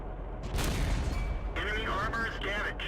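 A tank cannon shot lands on a KV-5 in a tank battle game, a sharp loud blast followed by a ringing, warbling tail, with a voice talking faintly under it.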